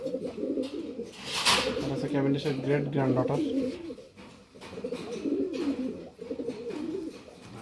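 Pigeons in a breeding loft cooing in low, throaty bursts close by, under a voice talking over them.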